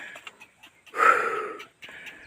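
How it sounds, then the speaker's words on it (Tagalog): Heavy breathing from a worker on a farm after hauling a load, a few short breaths and one long, loud, rasping exhale heard up close, with no speech. "Mahingal ako."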